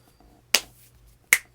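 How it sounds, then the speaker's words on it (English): Two crisp finger snaps, close and distinct, about three quarters of a second apart over a quiet background. "Can you snap too?"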